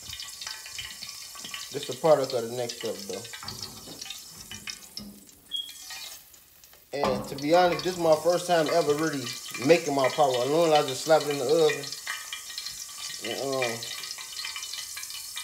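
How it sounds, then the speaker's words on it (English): A pot roast sizzles steadily in a hot pan while a person talks over it at close range. "I'm gonna put this on here while it's sizzling."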